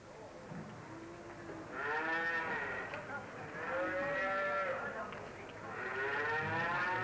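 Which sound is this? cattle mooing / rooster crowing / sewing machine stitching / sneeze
cattle mooing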